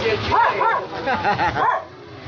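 A dog barks and yips repeatedly nearby, high and excited, with voices talking in the background.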